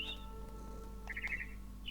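A frightened bird in What Remains of Edith Finch gives short high chirps in a few quick clusters over a quiet hum of background tones.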